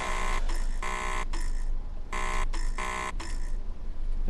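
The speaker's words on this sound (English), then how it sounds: "So we'll just do the guard buzzer." Guard buzzer in the cab of a Class 101 diesel multiple unit, sounding as two sets of four loud, harsh buzzes with short gaps between them, over a steady low engine rumble.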